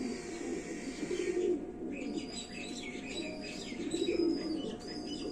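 A pigeon coos steadily in the foreground, low and soft, while brighter chirps from other birds scatter above it throughout.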